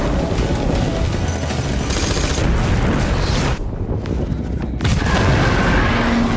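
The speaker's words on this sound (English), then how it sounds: "she wildly fires her gun" Gunfire in a movie action scene, a dense barrage of shots and booms over a loud continuous rumble, with a brief lull midway before the roar resumes.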